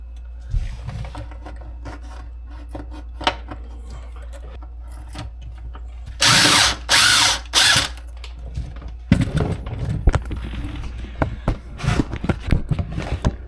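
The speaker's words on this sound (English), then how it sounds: "let me finish getting this screwed in here and get the upper shelf in there" Screws driven into a closet shelf during a holiday home build in Tennessee: three short bursts of a power driver whirring close by, surrounded by scattered knocks, rattling and handling noises of wood and hardware.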